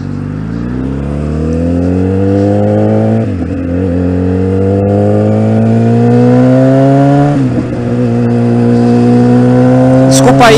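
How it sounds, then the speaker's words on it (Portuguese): A car's engine hums steadily nearby on a street, its pitch rising through two smooth upshift-like climbs as it accelerates and passes, loud and continuous throughout without any talk. "Deixa o carro passar."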